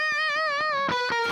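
An electric guitar with its gain turned down for a backing tone rings out as a sustained, lightly distorted note, with rhythmic picking pulses underneath and a brief shift in pitch near the end, steady and close.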